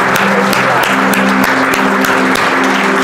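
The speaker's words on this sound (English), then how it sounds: "Let's give God a hand clap." Church congregation clapping hands together after a prayer, loud sustained applause with a brisk, even rhythm that holds steady throughout.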